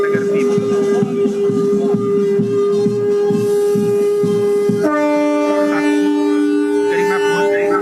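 Departing trains on the Kevadia routes in Gujarat, newly flagged off, sound a long sustained horn blast that shifts pitch midway, steady and loud over a rumbling background throughout.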